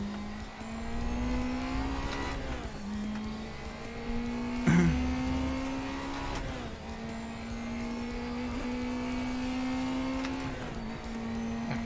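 A race car engine in the driving game Assetto Corsa, played close and steady, rising in pitch under throttle and dropping on shifts, with a short tire scrub and a jolt midway; no talk over it.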